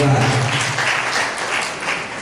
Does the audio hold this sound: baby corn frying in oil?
no